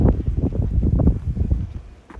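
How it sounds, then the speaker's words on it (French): Outdoor wind buffeting a microphone at the Château d'Angers, a steady low rumbling roar with gusty surges, loud and close throughout, with no voices. "On entend toujours bien le vent"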